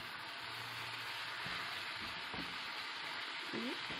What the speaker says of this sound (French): on laisse toujours le feu au plus haut, hein, pour que les légumes soient dorés et en même temps pour que ça cuise